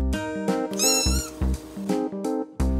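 A kitten mews insistently up close, a run of roughly six loud, tonal cries coming one after another with short gaps, no voices over them.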